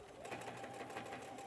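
A sewing machine stitches across the ends of fabric for a hanging travel organizer bag, a steady faint whirring hum with a quick rhythmic needle pulse, heard alone without talk.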